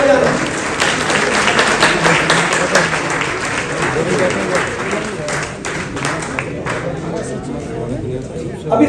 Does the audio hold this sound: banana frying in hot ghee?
no